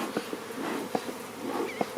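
Honeybees buzzing around an opened hive, a faint, thin drone with brief sharper bursts as individual bees fly close past, quiet and without any talking.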